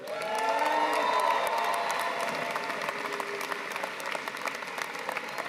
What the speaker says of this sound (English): you get a massive round of applause at the end here